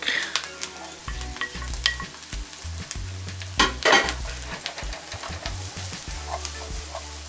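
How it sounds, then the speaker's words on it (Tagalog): Onions and garlic sauté in oil in a pan, a close sizzling crackle punctuated by frequent clacks and scrapes of a utensil stirring against the pan. "So we'll saute first the onions and then the garlic after."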